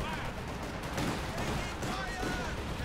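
Stuka dive bomber's heavy autocannon fire wrecking a heavy mortar in Company of Heroes 2, a dense continuous clatter of gunfire and explosions in game battle noise with steady loudness throughout.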